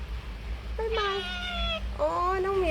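A cat lets out two clear meows close by, the first longer and steady and the second rising then falling, over a low background hum with faint voices nearby.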